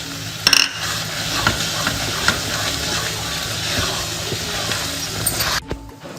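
Pumpkin halwa with almonds is stirred in a pan. A spoon scrapes and swishes steadily through the thick mixture with a soft sizzle underneath and a few sharper clinks near the start and end.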